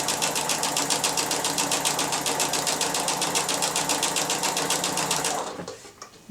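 A sewing machine runs steadily as it stitches piping around a quilt, a close, fast, even mechanical rattle that carries on for several seconds before stopping abruptly.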